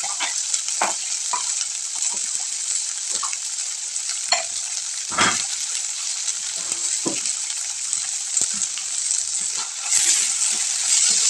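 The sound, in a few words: frying cluster beans directly in oil in a pan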